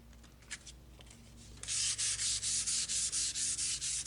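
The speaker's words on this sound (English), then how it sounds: "I ran some 220 grit sandpaper over the blade, and that got a lot of the surface rust off" 220 grit sandpaper rubbed over the rusty blade of a hand saw, heard as steady rhythmic back-and-forth scrubbing strokes, close and fairly loud, after a quieter start with a few light knocks.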